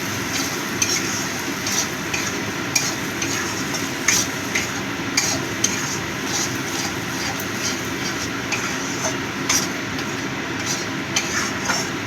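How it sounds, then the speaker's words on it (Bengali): Spiced prawn-head paste frying in a pan while being stirred, a steady soft sizzle with small periodic scraping clicks from the spoon, fairly quiet and continuous. "এবার আরও কিছুক্ষণ ভেজে নেব যাতে মশলার কাঁচা গন্ধটা চলে যায়।"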